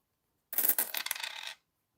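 Coins drop and clink together close by, a burst of bright metallic jingling and rattling lasting about a second before stopping abruptly into silence.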